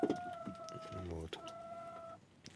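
Chickens in a coop on a small farm give a few soft clucks and a drawn-out call, fairly close but quiet, over a low ambient background.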